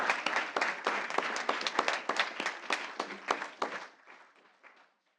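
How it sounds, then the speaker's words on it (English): Audience applause at a school board meeting, a burst of clapping from a modest crowd that carries on for a few seconds and then fades to silence. "So give me one more round of applause for Megan Cronkite."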